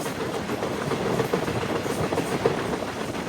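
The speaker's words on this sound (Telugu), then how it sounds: "మన ట్రైన్ చూడండి ఇక్కడ." The Chennai Mangalore Mail passenger train runs along the line, a steady rumbling roar with faint rhythmic clatter of wheels over rail joints, close and continuous without speech.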